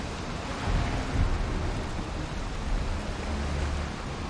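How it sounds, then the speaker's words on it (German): A Valheim thunderstorm rumbles loudly and steadily, with deep rolling thunder swelling around the middle over a broad wash of rain and wind, and there is no talk. "Das war ein Blitz."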